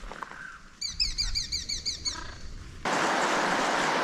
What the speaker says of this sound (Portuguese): Arara azul, pessoal, olha que lindo. Ó, vem vindo mais duas